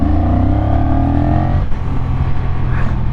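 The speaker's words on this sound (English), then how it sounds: "in sport mode, the engine definitely does come alive" A Honda CMX1100 motorcycle engine in sport mode revs and rumbles steadily up close, pitch climbing then settling back, with no voices over it.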